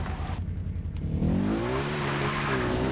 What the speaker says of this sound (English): That is one loud motor.